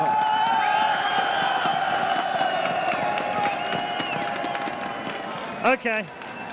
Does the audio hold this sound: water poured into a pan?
no